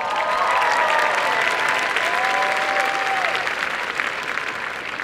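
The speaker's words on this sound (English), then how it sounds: "please remain standing for a collective round of applause" Audience applause at a Berkeley Engineering baccalaureate commencement ceremony in 2015: a dense, steady roar of many hands clapping in a large hall, with faint cheers and whistles and a slight fade toward the end.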